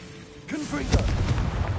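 A Confringo blasting spell explosion in Hogwarts Legacy, a sudden booming burst that rings on as a dull rumble, with a short voiced whoop just before the blast.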